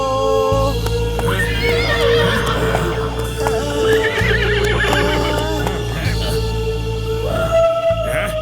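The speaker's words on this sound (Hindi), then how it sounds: "आओ आओ घोड़े, ढोलकपुर में आओ।" A cartoon horse neighs in a loud, drawn-out whinny with wavering pitch, set against music and effects in a children's animated adventure in Dholakpur, with hoof clopping and voices mixed in.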